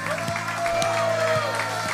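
A church congregation at the Canaa Florida church applauds and shouts together, a steady crowd roar with scattered claps over sustained musical tones.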